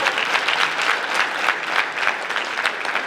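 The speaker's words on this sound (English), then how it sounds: "let's clap it again for Brookstone" Crowd applause at a high school basketball awards ceremony, a brisk, even wash of many hands clapping throughout, fairly close and sustained.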